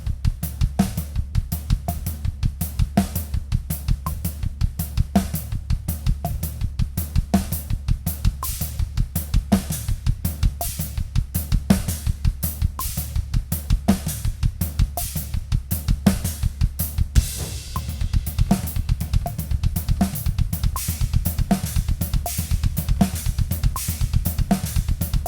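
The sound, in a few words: drum kit playing a rudiment splits beat with displaced notes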